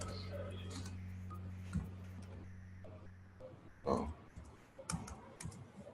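Scattered clicks and taps on a computer keyboard during an online webinar, irregular keystrokes that are sparse at first and then grow into a few quick bursts over a steady low hum.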